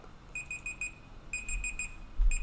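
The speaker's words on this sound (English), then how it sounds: "Oh, our alarm's about to go off." An electronic alarm sounds in the Endless Space 2 strategy game as a series of rapid high beeps, grouped into repeated clusters, over a low background hum.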